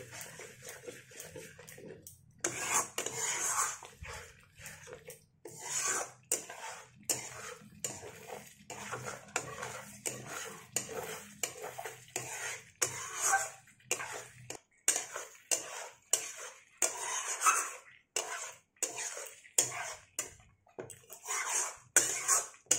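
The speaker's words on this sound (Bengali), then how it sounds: "এবার আমি এটা খুব ভালো করে মিশিয়ে নেব।" Paneer curry made without onion or garlic is stirred in a pan, a series of short scraping and clattering strokes of a spoon against metal, each stroke separate and close up.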